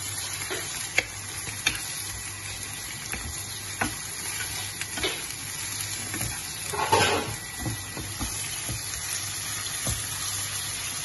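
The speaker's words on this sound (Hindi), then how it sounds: "थोड़ा सा चिकन का कीमा है मैं इसमें डालूंगी, इसको करूंगी अच्छी तरह से फ्राई" Chicken mince frying in oil in a home kitchen, a soft steady sizzle with occasional stirring scrapes and a brief louder hiss midway, fairly quiet and without talking.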